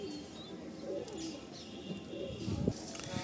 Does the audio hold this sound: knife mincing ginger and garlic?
no